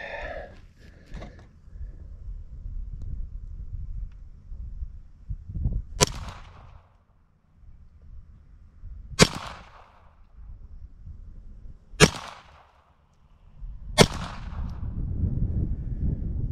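Pistol shots ring out at an outdoor shooting range, four sharp, loud reports spaced a few seconds apart, with wind rumbling steadily underneath between them.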